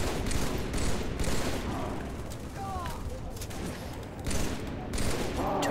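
Gunfire in the Halo 3 video game: rapid bursts of shots crackle in clustered volleys with short pauses between them, loud against a dense battle din.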